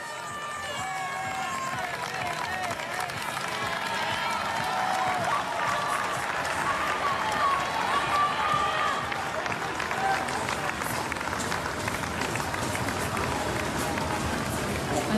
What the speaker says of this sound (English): And so the crowds will cheer the world champion in towards the finish.